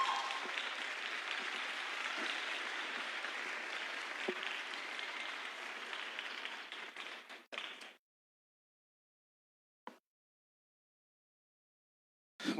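An audience gives loud, sustained applause to welcome psychologist Juan Rosales Pinto. The clapping is dense for about seven seconds, tapers off and stops abruptly, leaving silence broken only by a couple of brief sounds.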